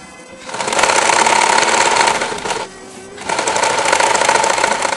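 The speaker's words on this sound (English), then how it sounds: "now we're going to just sew down the ends, okay? With just a simple straight stitch" A sewing machine runs a simple straight stitch down the ends of a fabric piece sewn right sides together, a loud, steady whirring buzz that stops briefly near the middle and then resumes, with no talking.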